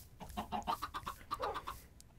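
Chickens cluck in a Minecraft coop, a quick series of about a dozen short, evenly spaced clucks from nearby, fairly soft, with no talking over them.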